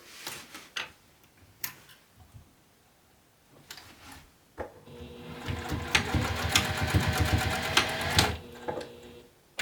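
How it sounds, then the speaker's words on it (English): A sewing machine runs a quick basting stitch along a small seam on a fabric apothecary bag, starting after a few scattered clicks and handling sounds, then whirring steadily and close for several seconds before stopping. "Quick baste there on that little seam."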